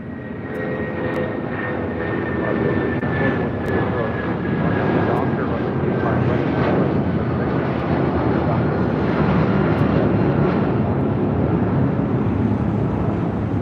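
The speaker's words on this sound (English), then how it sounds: "Next departure on 25 rights, United Airlines flight 2213 heading to Newark" A United Airlines Boeing 757-200 departs LAX runway 25 right for Newark with a loud, building jet roar and a faint high whine that fades, while a voice talks over the engine noise.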